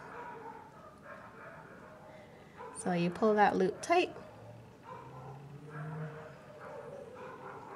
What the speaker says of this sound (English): something is setting all the dogs in my neighborhood off.